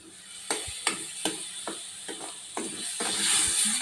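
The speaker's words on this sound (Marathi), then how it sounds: "छान परतून घेऊया तेल सुटेपर्यंत" A ground paste of roasted onion, coconut and garlic fries in oil for an eggplant curry, with rhythmic spoon scrapes and taps over a rising hiss and sizzle that grows louder toward the end.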